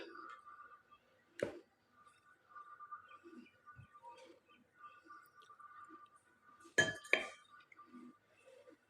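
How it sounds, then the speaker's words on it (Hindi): Rasmalai is spooned out into a bowl, with a few sharp clinks of dishes and utensils standing out over a faint steady background hum. "अब हम इसे बाउल में निकाल लेते हैं एहतियात से।"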